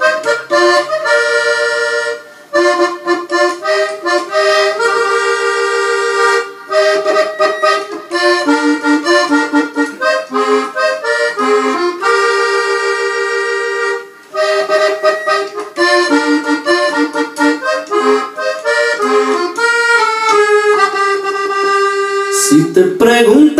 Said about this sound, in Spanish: Él me va a acompañar esta melodía en el acordeón